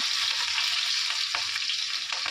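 Onion and chilli sizzle in hot oil in a pan, a steady bright hiss with faint stirring scrapes, close and continuous.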